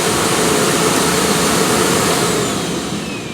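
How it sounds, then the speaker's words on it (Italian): A Miele Blizzard vacuum cleaner runs its self-cleaning cycle for the internal filter, giving a loud, steady whooshing roar that fades slightly toward the end, heard close with no talking. "l'aspirapolvere pulisce da sola il filtro interno."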